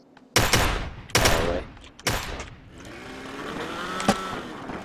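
Three sharp, loud gunshots ring out in a video game about a second apart, each trailing off, followed by a steadier engine-like hum with another faint shot.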